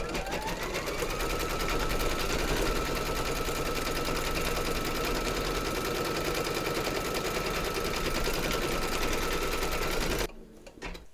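A large vintage sewing machine stitches embroidery with wood detail in brown thread, its needle running in a steady, fast, continuous rattle, close and loud, for about ten seconds before stopping abruptly.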